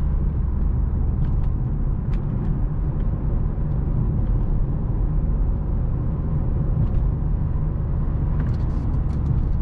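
A chip-tuned BMW X5 E53 4.4i with a 4.4-litre V8 drives through city streets, a steady close engine drone and road rumble filling the cabin with no talk.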